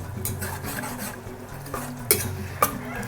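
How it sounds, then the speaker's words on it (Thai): Sliced pork and liver stir-fried together in a pan for Thai larb, giving a steady sizzle with scraping utensil strokes and two sharp clinks against the pan, near and without talk. "ลวนให้สุกนะคะ แล้วก็ จะใส่ตับลงไปเลยนะคะลวนพร้อมๆ กัน"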